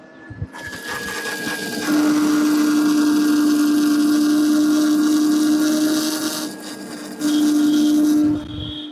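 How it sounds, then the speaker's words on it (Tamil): Ola S1 Pro electric scooter motor giving a loud, steady whine with a high tonal pitch, rising in bursts and briefly dropping off before resuming, close and alone with no talking. "மோட்டர் சவுண்டு ரொம்ப அதிகமாக வருதுங்க. மோட்டர் சவுண்டு கேளுங்களேன் நீங்கள்."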